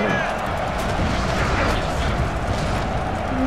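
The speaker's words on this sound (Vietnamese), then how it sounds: "Đuổi pháo mình bắn ác thế nhỉ." Artillery in Napoleon Total War booms in a dense, rumbling battle roar for a few seconds while someone talks over it.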